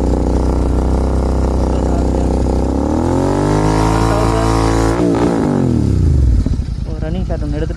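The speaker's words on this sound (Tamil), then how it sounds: "நம்ம இந்த வண்டியை ஒரு எக்ஸாஸ்ட் நோட் தான் பார்க்க போகிறோம். இது பார்த்தீங்கன்னா ஐடியல் நோட்டு." Motorcycle engine idling, then revving, a steady low harmonic exhaust drone that swells and dips in pitch mid-way before a sharper blip near the end, loud and close throughout.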